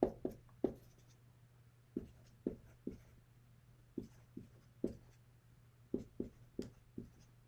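Pen or pencil writing by hand on paper, a series of short scratchy strokes in irregular bursts with brief pauses, close and quiet, over a steady low hum, with no talking.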